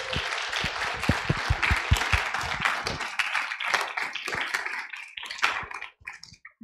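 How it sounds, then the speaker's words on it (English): An audience claps after a spring piano recital by students, with dense, brisk applause that thins out into scattered claps toward the end. "Let's give them another round of applause."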